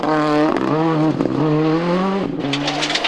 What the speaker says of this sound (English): Dermot Kelly and Greg Shinners drift their similar Escort very quickly on the final tests